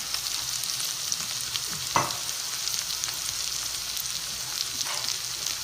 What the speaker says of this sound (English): there is nothing in the world like a sauteing shallot